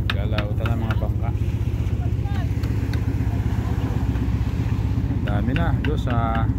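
Motorboats moving about on the water, a steady low engine drone with wind buffeting the microphone throughout, while people talk loudly over it at the start and end.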